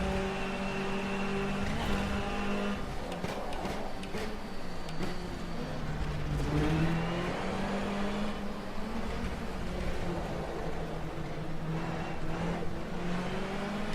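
A race car engine in rFactor 2 on the Targa Florio road course drones steadily throughout, its pitch rising and falling as the driver works through the gears, with no talk over it.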